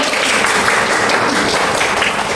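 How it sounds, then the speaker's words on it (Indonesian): A classroom of students gives a round of applause, continuous loud dense clapping filling the whole stretch, close and without speech. "Yang betul beri tepuk tangan."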